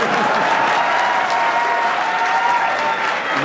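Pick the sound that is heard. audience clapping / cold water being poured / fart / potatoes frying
audience clapping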